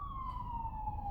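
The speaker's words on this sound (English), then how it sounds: "That was the ambulance." Ambulance siren drifting slowly downward in pitch as it passes, a steady loud wail over low traffic rumble, with no talking.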